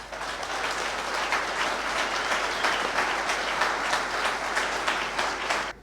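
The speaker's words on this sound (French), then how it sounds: "je demande à tous les cadres et militants présents dans ce congrès d'applaudir chaleureusement tous nos invités" Party congress delegates, cadres and militants, applaud their invited guests with steady, dense clapping that fills the hall for several seconds without pause, then cuts off abruptly.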